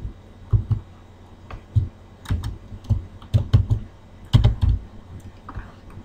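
Someone types on a computer keyboard, with irregular bursts of close, crisp key clicks and taps over several seconds and quiet pauses between groups of strokes.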